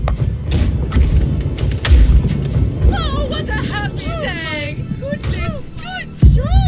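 Heavy naval cannon fire in a ship-combat video game aimed at an enemy schooner: repeated deep booms and thuds over constant wind and sea rumble, with whistling shell sounds and radio-style team chatter running underneath.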